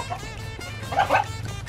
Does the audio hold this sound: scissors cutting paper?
no